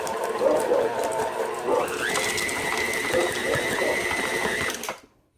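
A stand mixer more than 20 years old, a KitchenAid, runs steadily with a mechanical gear whir that shifts pitch partway through, then cuts off abruptly near the end.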